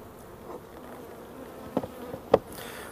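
Honeybees buzz at an open hive in a quiet, steady hum, with two sharper close passes as single bees fly near.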